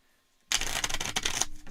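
Playing cards for the APBA Soccer tabletop game being shuffled by hand: a sudden, close burst of dense, rapid papery riffling clicks lasting about a second after a short silence, with no talking.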